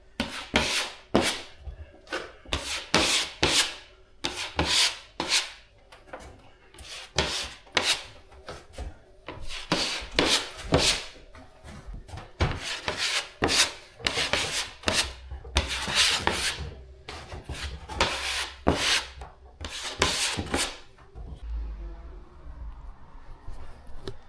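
A drywall knife spreads joint compound across a ceiling in repeated rasping, scraping strokes, a steady close rhythm of smooth swipes with brief gaps, no talk.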